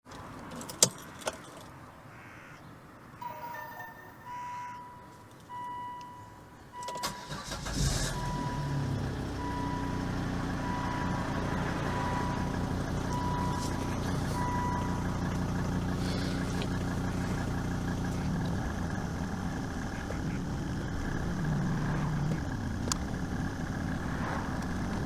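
Keys jangle and a chime dings from a Volvo XC90 before its engine starts with a sudden burst, then settles into a steady, close idle hum while the gearbox is shifted through reverse, neutral and drive.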